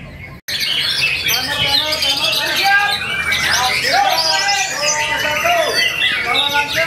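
Many songbirds chirp and trill loudly at once at a bird singing contest in Gresik, a dense, continuous chorus of overlapping calls after a brief silent start, with faint voices in the background.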